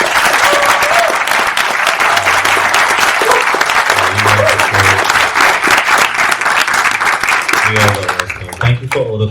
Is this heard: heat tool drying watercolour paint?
no